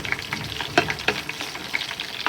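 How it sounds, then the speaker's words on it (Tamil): Fish frying in oil in a village setting, a loud close crackling sizzle with irregular bursts and spatter throughout. "அப்படியே எண்ணெய் அள்ளி ஊற்றி பொறிக்க வேண்டியதாங்க."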